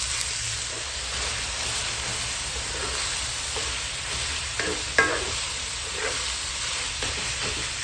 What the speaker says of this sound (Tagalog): Continuous lang halo nito para hindi siya magbuo-buo.